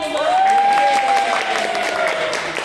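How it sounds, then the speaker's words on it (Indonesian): Classroom applause, students clapping hands together in a brief, lively burst, with a high sustained tone running through it. "Pinter sekali, tepuk tangan."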